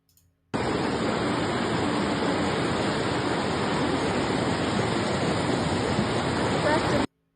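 Rushing floodwater pours in a loud, continuous broadband roar that holds steady for several seconds before stopping abruptly, with no voices over it.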